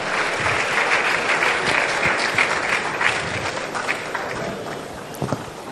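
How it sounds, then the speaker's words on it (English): At the launch of a free tertiary education policy for persons with disabilities, a large audience gives loud, sustained applause for the students' speeches, thick rapid clapping throughout with slight swells, easing a little toward the end. "A round of applause. Let's give it up."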